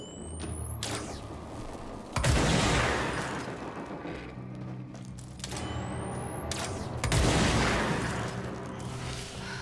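Gunfire from the player's weapon in the action game Control, two loud bursts of shots with sharp onsets and a rising mechanical whine before each, sustained roar between them, no talking.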